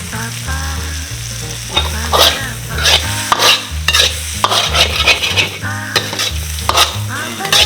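Quail and kratom leaves are stir-fried in a hot pan for a spicy dish, with steady sizzling and frying hiss under repeated scraping and stirring strokes that clack loudly and irregularly throughout.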